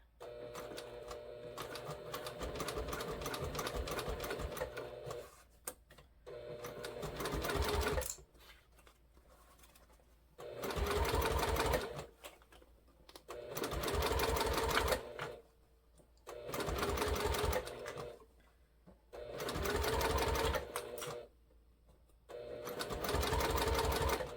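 A sewing machine stitches a bag at a wide stitch length, running in several loud bursts of a few seconds each, separated by short quiet pauses.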